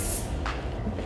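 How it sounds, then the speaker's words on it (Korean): A short hiss of Milbon pink hair spray misted onto styled hair, one brief close spray burst over faint room noise. "스프레이는 밀본 핑크 스프레이를 사용했고요"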